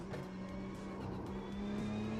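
A race car in the Automobilista 2 sim brakes hard with weak brakes, engine note dropping through gear changes with a faint tire squeal, steady and fairly close, no talk.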